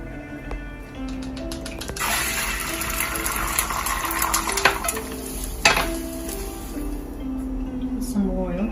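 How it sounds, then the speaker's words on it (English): Marinated shrimp stir-frying in oil in a wok, a steady close sizzle with scraping stirs and a few sharp clanks from the utensil, with speech present. "So I'm going to stir fry the shrimp very quickly"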